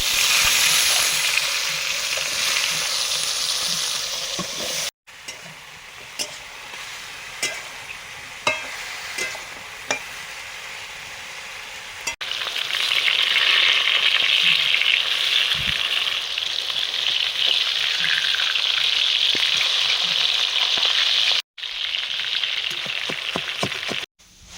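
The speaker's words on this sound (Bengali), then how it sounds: "কালো জিরে, নুন হলুদ মাখানো বেগুনগুলো দিয়ে দিলাম।" Eggplant pieces coated in salt and turmeric, with nigella seeds, frying in oil: a continuous loud sizzle that swells in bursts, with scattered spatters and occasional clicks of the pan.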